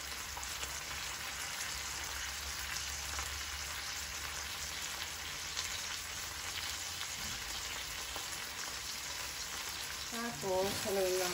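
Pork and tofu sisig sizzles steadily in a pan for the whole stretch, a dense, even crackle of frying with faint scraping as it is stirred and a few louder clinks of the utensil near the end.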